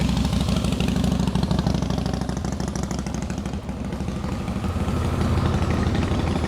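A motorcycle engine runs loud and close on a country road through a park on a warm, clear day, a steady throbbing idle-like rumble holding for several seconds with a slight dip midway, no talk over it.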